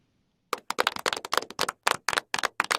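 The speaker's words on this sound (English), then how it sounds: "a round of applause?" A single person claps alone, about a dozen crisp claps in quick uneven rhythm close up after a moment of silence, like a short self-congratulation at home.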